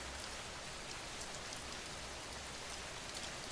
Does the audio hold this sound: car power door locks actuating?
no